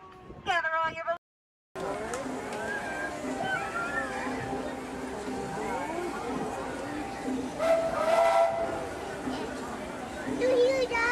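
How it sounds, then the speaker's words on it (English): A steam train whistle sounds at a Disney park, heard in short bursts through a busy, crowded ride area with people talking loudly throughout. "It's a choo-choo."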